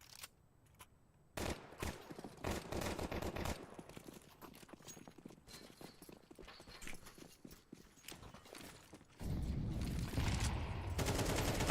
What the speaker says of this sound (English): A lot of grenades being thrown in.